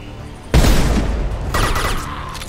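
A gun fires in the game Mass Effect 2 Legendary Edition: a loud, sudden burst of shots cracks out, then a second wave of fire follows about a second later, close and with no speech over it.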